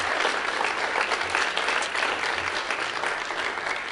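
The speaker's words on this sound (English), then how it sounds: "Let's give a final hand to all 4 teams who presented today" A full room claps steadily for four presenting teams at a pitch event, a dense, continuous burst of hand-clapping that stays loud throughout with only faint crowd murmur underneath.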